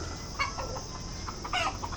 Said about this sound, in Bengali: এগুলো সব লাল মোরগ দেখছেন না।